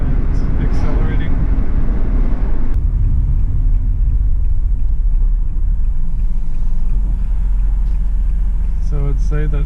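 A Honda N One with freshly changed CVT filters pulling away, a loud, steady low engine and road rumble filling the whole stretch, changing tone partway through, with a few faint clicks near the end.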